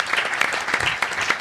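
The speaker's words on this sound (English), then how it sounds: "So why don't you give these two guys a round of applause?" An audience at an investor panel on seed and venture capital claps, a dense, even burst of applause from many hands at moderate distance, with no voices heard over it.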